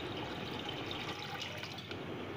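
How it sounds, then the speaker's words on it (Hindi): Six to seven cups of water are poured into a pot for boiling pasta, a faint, steady splashing rush that runs without a break and with no talk over it. "आमी एखाने छय थेके सात कप परिमाण पानी निये निच्छि"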